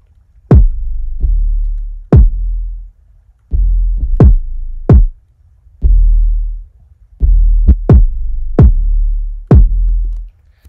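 Loud, distorted 808 sub-bass notes thump in a repeating rhythmic pattern, each with a gritty upper edge from added harmonic distortion and a pumping sidechain swell between hits.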